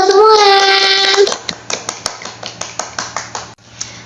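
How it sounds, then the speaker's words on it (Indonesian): A first-grade class at an elementary school chants together briefly, then breaks into sharp, rhythmic claps, around a dozen near, loud beats in a steady pattern. "Tepuk tangan untuk kita semua."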